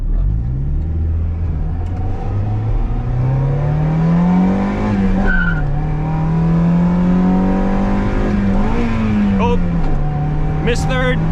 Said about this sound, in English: I'll give you guys a little first gear pull. It usually chirps the tires